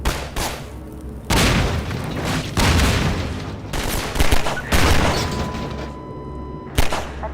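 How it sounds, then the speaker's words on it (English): A pistol in the video game Half-Life 2 fired rapidly, loud sharp shots arriving in dense clusters separated by brief gaps, with no talking. "The gun will fire as fast as the player can click their input button"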